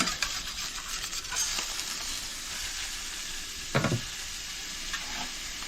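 Brats and sauerkraut cook in a cast iron skillet, a close, steady frying sizzle with a couple of brief utensil scrapes against the pan.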